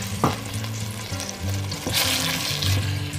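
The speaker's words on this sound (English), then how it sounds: "Now we'll add our tomatoes." Peeled, diced tomatoes hit a hot pan of onions and garlic for pizza sauce, a loud close sizzle with stirring clatter and bubbling that keeps going on its own, no talk.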